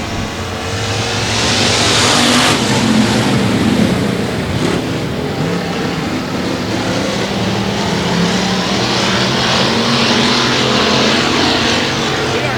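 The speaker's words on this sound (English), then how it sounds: "Green flags waving. We're hobby stock racing." Hobby stock race cars roar around a Texas speedway at the start of a race, a dense, loud, continuous wash of engine noise from the pack filling the whole stretch.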